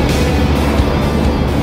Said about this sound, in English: The engine noise from this machine is fantastic.